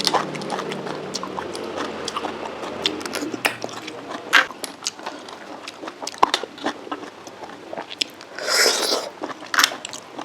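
Close, wet chewing and crunching of cockles eaten with a spicy glass noodle salad, with irregular bites and smacking sounds running steadily throughout and no talk.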